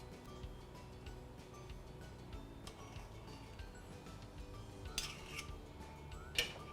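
Metal spoons clink and scrape against baba moulds as they are filled with dough, soft irregular taps through the clip with a couple of brighter knocks near the end, close and fairly quiet.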